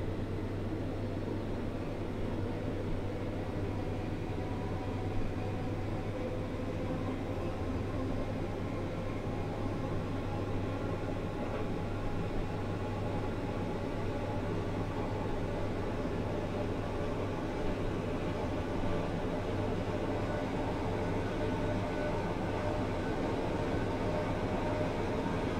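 A Class 456 electric train in Train Simulator runs between West Croydon and Wimbledon under acceleration, a steady low rumble and hum with constant motor drone that stays even and unbroken throughout.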